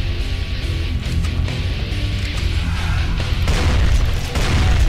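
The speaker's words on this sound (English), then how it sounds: "nothing that can't be solved with a couple of shotguns and exploding barrels" Loud, dense game combat from Brutal DOOM with exploding barrels and shotguns, heavy low booms rolling over one another continuously with a sharper burst near the end.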